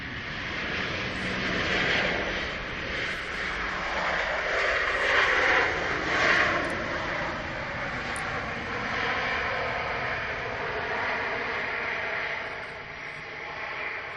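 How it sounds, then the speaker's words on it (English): An airliner lands at Manchester Airport, its engines a distant steady broadband rumble and whine that swells slightly mid-way and then holds level. "Nice touchdown."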